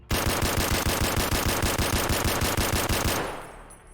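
Rapid SKS rifle fire in Escape From Tarkov, roughly twenty sharp close shots in a fast, even burst lasting about three seconds before the echo fades out.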